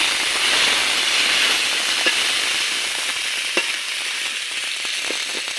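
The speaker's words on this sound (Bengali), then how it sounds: "পেঁয়াজ মরিচ ভাজা হয়ে গেছে, এখন আদা রসুন বাটা দিয়ে দিল" Ginger garlic paste frying with onions and green chillies for a pigeon curry gives a loud, steady hissing sizzle with a few small pops, heard close and alone.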